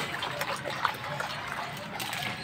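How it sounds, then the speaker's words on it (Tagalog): Water runs and trickles as shampoo is dissolved in it before bathing a dog, a soft steady splashing and dribbling heard faintly and close, with no talking over it. "Tutunawin muna natin yung shampoo dito sa tubig."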